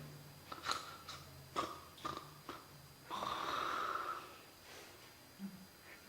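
During a lecture, a voice imitates snoring with a few short snorting breaths and then one longer, rasping, drawn-out snore. It is faint and close, with no words.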